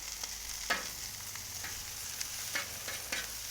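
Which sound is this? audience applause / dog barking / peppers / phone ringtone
peppers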